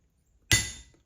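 A single sharp metallic strike of a metal punch driven into plastic for a lathe reduction gear job, a bright close ringing crack that decays quickly into quiet.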